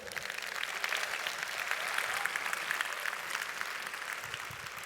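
A crowd at a corporate event in Singapore claps together, a broad, sustained ovation of many hands that stays even and fairly distant throughout, with no speech over it.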